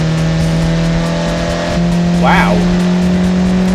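An F1 car fitted with a 1.9 TDI diesel engine accelerates hard, a steady loud engine drone with a rising rev sweep near the end, under a brief spoken exclamation.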